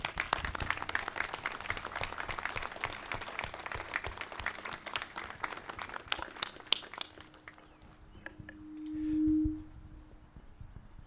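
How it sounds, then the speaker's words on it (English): Quiet audience applause for veterans at a Bataan Death March remembrance ceremony, steady distant clapping for about seven seconds that fades out, followed by a brief tonal hum. "Please, a round of applause for our veterans."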